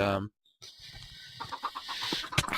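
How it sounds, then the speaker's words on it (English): Chickens in a Minecraft egg farm cluck in short, close bursts after a brief pause, with several soft clucks overlapping in the blocky video game world. "These chickens need to grow up before it'll even start producing eggs."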